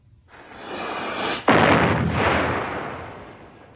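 Cannon fire booms loud and close: a rumbling blast builds, then a sharp second report cracks and rolls away into a long fading roar, with no talk.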